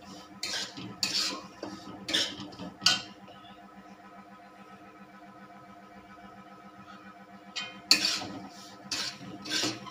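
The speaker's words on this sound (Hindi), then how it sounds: "ऐसे ही चलाते हुए इसको हम फ्राई करेंगे अच्छे तरीके से।" A metal spoon clinks and scrapes against a pan while semolina halwa is stirred and fried over low heat, a few sharp scraping strokes at the start and again near the end, with a quiet low hum between.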